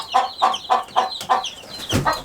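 A Marans chicken of the Cuckoo variety, barred-rock in look, clucks close and loud, making a run of six rhythmic, evenly paced calls followed by a longer, drawn-out call.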